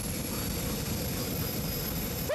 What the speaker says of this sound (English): I'm riding a jet-powered motorcycle.